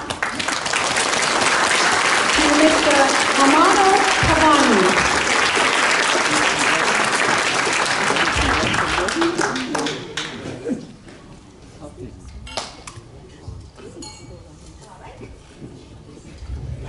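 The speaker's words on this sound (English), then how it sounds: "Please give a big round of applause" Big round of audience applause for the Renton city mayor at a King County Duc Tran Day celebration, loud sustained clapping from a crowd that fades out, with a voice announcing a name over it.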